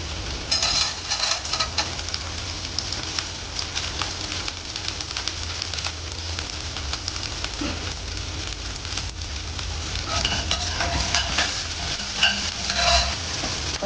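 Mustard seeds, urad dal and chana dal crackle and sizzle in hot coconut oil in a pan, a steady close hiss with scattered pops and stirring.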